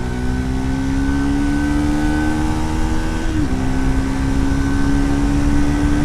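Triumph Scrambler 400X motorcycle with a single-cylinder-style thumpy, bassy exhaust, a steady loud engine drone held through the whole stretch with a brief dip in pitch partway as revs shift, no voices.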